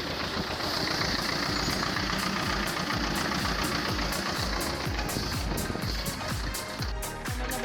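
An Ursus C-330M tractor engine idling in a meadow, a loud, close, steady diesel chug with regular knocking pulses throughout.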